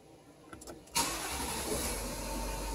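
A 2016 Nissan Titan Cummins diesel cranks briefly and catches, settling into a loud, steady idle close by after a short whir of the starter.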